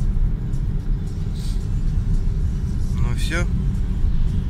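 A car drives toward a carp fishing spot, a steady loud low engine and road rumble close inside the cabin, with a brief spoken remark and a short whining sweep near the end.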